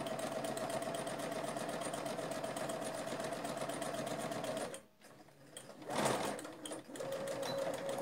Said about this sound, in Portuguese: Vamos costurar o nosso bolso.